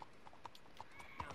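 Quiet hoof clip-clops from a horse in Red Dead Redemption 2, irregular steps with a few sharper knocks, faint and somewhat distant.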